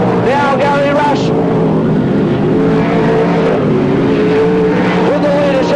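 Sprintcar race cars roar around a speedway track in a 1983/84 PCR meeting, including Rob Worthington's number 98 blowing blue smoke, their engines droning and rising in pitch as they pass, under loud continuous commentary.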